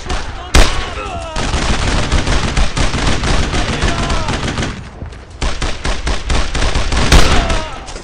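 Dense, loud World War II gunfire fills a battle in Brothers in Arms: Road to Hill 30, with sustained rifle and machine-gun volleys, sharp individual cracks near the start and end, and a brief lull midway.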